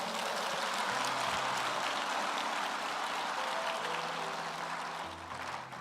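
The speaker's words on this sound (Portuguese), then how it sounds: "Dá um aplauso a Jesus." Faint, dense applause from a church congregation during a worship service, a continuous hiss-like wash of clapping heard from a distance with a low hum underneath, easing slightly at the end.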